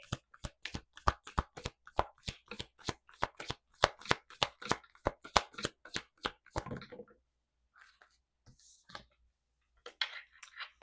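Rapid, rhythmic riffling clicks of a deck of tarot cards being shuffled for several seconds, then stopping, followed by a few softer scattered card sounds and handling noises.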